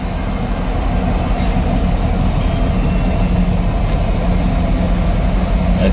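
BNSF eastbound loaded coal train on the Heartland Division at Hobson Yard in Lincoln, Nebraska, passing as a steady, loud rumble of rolling wagons and low engine drone that holds evenly throughout.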